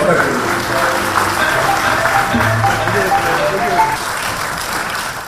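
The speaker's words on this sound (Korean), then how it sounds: "큰 박수 부탁드립니다." Loud, sustained applause from a large crowd at a Korean-Indonesian cultural awards ceremony, dense clapping throughout with voices and cheers blended in, fading slightly at the end.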